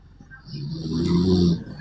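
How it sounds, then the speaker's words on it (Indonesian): A man snores in one long, deep, rasping breath that swells and then fades, close and alone. "Ngorok juga dia."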